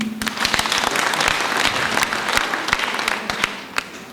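Church congregation members clap together in a short, loud burst of applause lasting a few seconds, close and dense, with sharp individual claps standing out as it tapers off.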